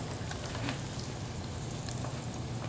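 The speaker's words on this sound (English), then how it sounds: "Let that sizzle." A pork chop pan-frying in hot vegetable oil gives a soft, steady sizzle with faint crackles, quiet and continuous, with no talk.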